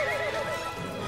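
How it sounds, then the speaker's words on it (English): Horses whinny loudly in a rising and falling neigh, with soft hoof clip-clop beneath, all close and clear for about a second with no talk. "Are those dancing horses?"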